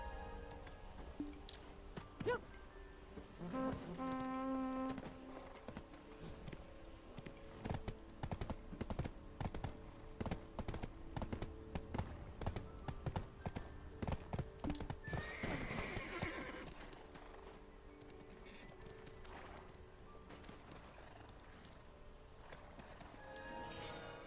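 Horse hooves clip-clop in the online video game Black Desert Online, a quiet run of rhythmic hoof strikes with a whinny and other small game effects, low in level and alone.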